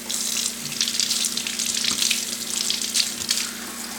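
Cold water runs and splashes in a sink while microgreens are swished and rinsed, a steady close hiss with gentle sloshing throughout.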